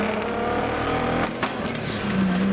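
A video game car engine labouring to build revs, a steady loud droning roar that strains without climbing, with a short dip midway before the tone rises again.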